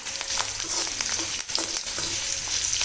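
Green chillies crackle and sizzle steadily in a hot pan for a tomato sweet chutney, a dense continuous frying hiss with small pops and occasional stirring scrapes, close and with no voices.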